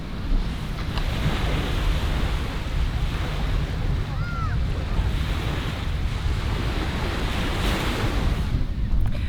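Ocean surf rolling onto a Florida Keys beach, a steady broadband wash of breaking waves with wind buffeting the microphone throughout, no talking.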